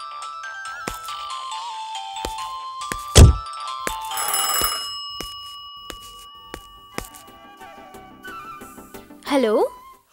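A telephone ringtone plays in a Telugu film scene, a repeating electronic melody with some thumps and clatter around it, fairly loud and close.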